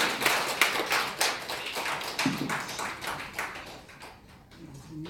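Audience applause at a North Korean freedom week event in Korea, a burst of fairly close claps tapering off over a few seconds, with faint voices underneath.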